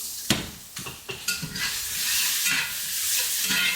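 Onions caramelizing in a pan sizzle and fry steadily while a utensil stirs them, giving a few sharp scraping knocks against the pan at the start before the frying hiss swells and holds, close up, with no talking.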